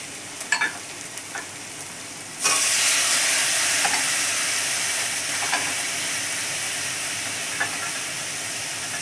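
Paneer stuffing hits a hot pan with a sudden loud sizzle that settles into a steady, close frying hiss, with faint clinks of stirring scattered through it and no talking.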